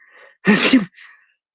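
A single close, loud sneeze with a short intake of breath before it, otherwise quiet.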